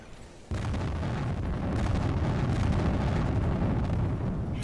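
A ship blows up in the submarine video game UBOAT: a sudden loud blast that then rolls on as a heavy, sustained roar and rumble, with crackling debris throughout.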